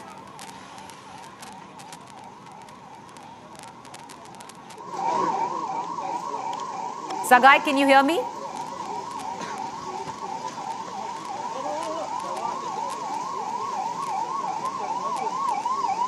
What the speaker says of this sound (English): the air siren now blaring in Bengaluru itself